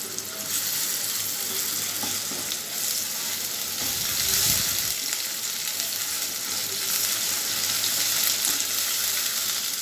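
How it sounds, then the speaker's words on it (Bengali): Ginger-garlic paste sizzles with already-fried onions in a pan for a hilsa and brinjal curry, a steady close hiss with a brief burst of stirring partway through and no talking. "আদা রসুনের কাঁচা ভাবটা যাবার জন্য হালকা একটু ভেজে নেব।"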